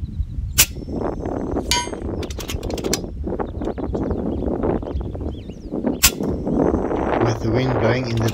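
Air rifle slugs, 25.4 grain .218 flat base, striking a farm fence wire at 100 m: a few sharp metallic clangs and pings ring out amid shot reports and outdoor wind noise.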